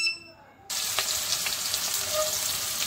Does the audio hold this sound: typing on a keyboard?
no